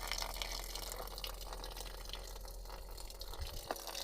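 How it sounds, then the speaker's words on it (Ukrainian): Meltwater drains from a heat pump after a defrost cycle in about -1 °C weather, giving a continuous hissing trickle of running water, steady and fairly close, with no voices. "Треба воду відвести, воду він вже у нас весь здефростився."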